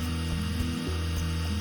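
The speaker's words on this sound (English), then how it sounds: "Now I need to drill holes in the concrete for anchors." A power drill with a masonry stone bit bores anchor holes into a concrete garage floor, a loud, close, steady whine with a brief dip in pitch partway through.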